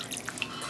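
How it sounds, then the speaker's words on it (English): Water draining from a freshly space-dyed sock blank as it is lifted out, a few soft scattered drips and trickles over a quiet background, faint and brief. "Let some of that water drain."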